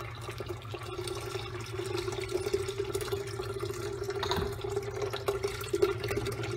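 Blended coconut and water poured through a strainer, a soft steady trickle of liquid with faint splashing over a low hum from a kitchen appliance.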